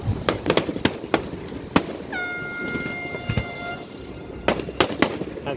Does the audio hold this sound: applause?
no